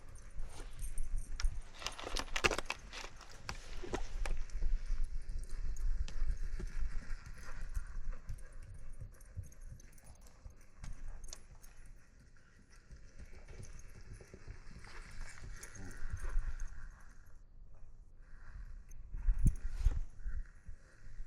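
Hooves of a young, green horse clip-clopping as it is ridden in circles, an irregular stream of soft thuds and scuffs at moderate distance, faint and continuous without talk.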